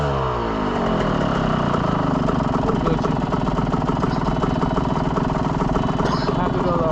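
Dirt bike engine idling a little high on a New York City street, a steady close, loud drone throughout with no break.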